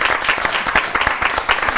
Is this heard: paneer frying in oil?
no